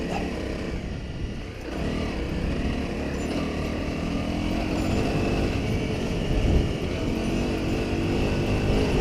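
A little 250 dirt motorcycle riding through sand by the Murray River in South Australia: a continuous buzzing engine drone, steady and fairly near, with throttle surges and no talk.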